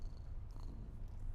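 A cat purrs close up in a low, continuous rumbling throb, soft and steady with no talk over it.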